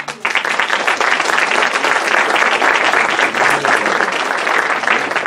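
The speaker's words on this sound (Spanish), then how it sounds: "A todos ellos nuevamente les damos un cálido aplauso" Warm applause from an audience at a Mexican Senate ceremony honoring Gilberto Bosques, dense steady clapping held at full strength for about five seconds with no talk over it.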